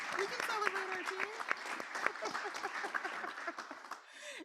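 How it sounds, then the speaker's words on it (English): A meeting audience claps to celebrate a staff member's promotion, producing a steady patter of applause at moderate distance while a voice talks over it. "I hear claps. I'll take a moment, go ahead and clap."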